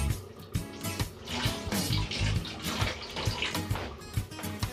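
Kitchen tap water runs steadily while a knife is given a quick rinse under it during home cooking of corned beef stew, a close, continuous splashing rush with small knocks and no talking.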